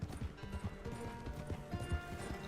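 Horse hooves clip-clop at a steady walking rhythm in Red Dead Redemption 2, close and fairly loud, with an occasional soft whinny and no talking over them.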